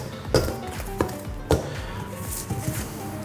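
Sugar and half a teaspoon of salt get stirred together in a bowl for dinner roll dough, producing a few light clinks and scrapes of a utensil against the bowl at an uneven pace, close and fairly quiet, without speech.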